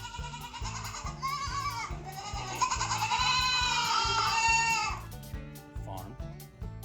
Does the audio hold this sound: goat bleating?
yes